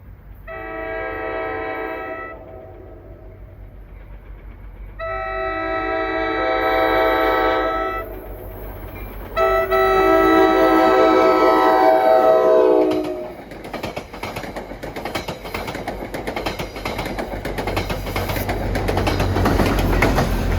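An NJ Transit heritage GP locomotive sounds its horn in three loud blasts while approaching on the main line, then a rumbling, clattering train passes close by.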